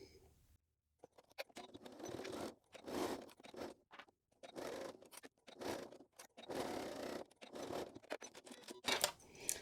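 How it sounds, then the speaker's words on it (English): A sewing machine fitted with a zipper foot stitches a zip in several short bursts of rapid mechanical whirring separated by brief pauses, close and moderately quiet. "I'll need to change to a zipper foot on my machine. And then I'll stitch across there."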